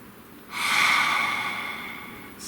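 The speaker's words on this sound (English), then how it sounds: "Please take a nice deep breath." One long, deep breath drawn in through the nose, a breathy rush that swells quickly and then slowly tapers off over about two seconds, close and clear against a quiet room.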